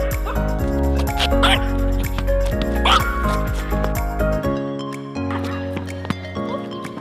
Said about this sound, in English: I come here a lot, play with the dog, throw this ball around